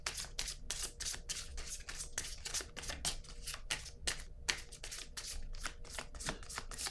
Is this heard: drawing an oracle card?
yes